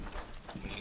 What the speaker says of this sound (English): footsteps actually sound like this